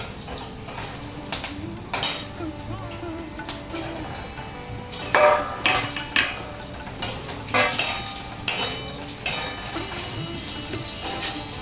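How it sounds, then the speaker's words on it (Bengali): Pointed gourd fries in oil tempered with fenugreek for a katla fish curry: a close, bubbling sizzle under repeated sharp spatula scrapes and clinks against the pan. "এই পটলগুলো দিয়ে ভাজতে থাকবো।"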